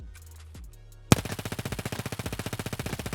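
Green tracer rounds fired in automatic bursts from a rifle in Escape from Tarkov, opening with a few faint distant shots before a sudden loud, close, rapid string of evenly spaced shots.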